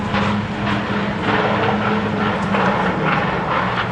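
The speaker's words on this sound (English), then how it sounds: "The grunts from the engines." Supercharged tuner cars of about 900 horsepower rev their engines at a car show, a loud continuous roar with rising surges and whine, close by and with no talk over it.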